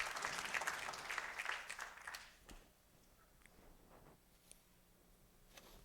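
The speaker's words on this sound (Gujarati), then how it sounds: "તાળીઓથી આપણે સ્વામીજીના આગમનને વધાવીએ" An audience at a religious katha gathering claps to welcome a swami, a burst of applause loudest at the start that thins into scattered claps and fades to quiet.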